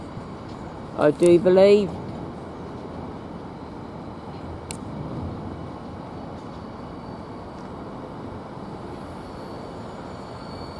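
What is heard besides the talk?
Thameslink train passing through Peterborough station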